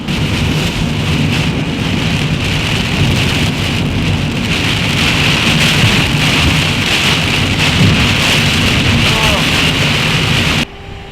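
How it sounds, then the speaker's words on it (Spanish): Heavy rain pounding steadily on a car while driving along a highway in Southland, New Zealand, a dense continuous roar with low road rumble beneath, cutting off abruptly near the end. "No para de llover."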